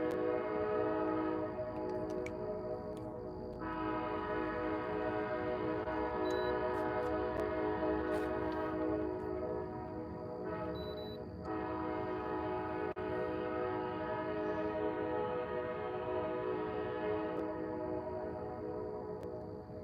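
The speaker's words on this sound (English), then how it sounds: "Oh, train's coming." A freight train rolls past near a catfishing spot, with a long, loud, steady horn blast and a second horn later over the continuous rumble and clatter of the cars, with no voices.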